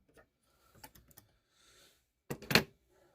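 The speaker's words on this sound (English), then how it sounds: "I'm just going to kind of put it in the brass trimmer just to show you how this works" Brass cartridge case seated into a brass trimmer for ammunition reloading, a scatter of light clicks and taps, then a louder, brief metallic clatter near the end, close and alone.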